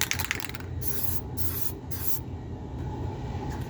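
Aerosol spray paint hisses steadily over small model-railroad scenery items, a continuous close rush with a few brief bursts and pauses in the spraying.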